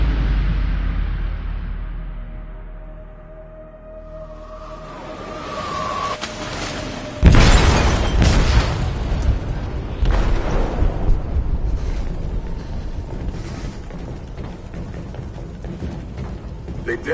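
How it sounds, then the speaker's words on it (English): An explosive detonating in a ship's hold: a low rumble gives way to a sudden loud blast, followed by sustained crashing, roaring debris and a second surge of rumbling noise that keeps going. "They detonated an explosive in the hold"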